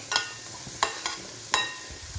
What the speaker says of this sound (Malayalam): ഒരൽപ്പം ഉപ്പും കൂടി ഇട്ടിട്ട് ഇതൊന്ന് വഴറ്റിയെടുക്കാം